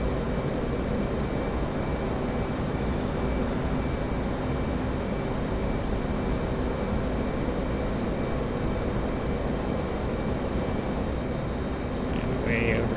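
An F/A-18 Hornet jet engine in the DCS World flight simulator drones steadily as a loud, continuous broadband roar with a faint high whine, unchanging for the whole stretch.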